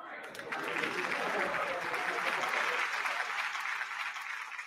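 An audience applauds after a lecture to the Board of Trade. The clapping swells quickly and holds as a thick, even wash before easing off slightly at the end.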